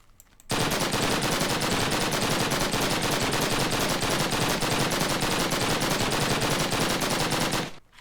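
A PPSh-41 submachine gun from a World War Two weapons pack for Minecraft's Flan's Mod fires one long unbroken automatic burst, loud and close, running about seven seconds before cutting off.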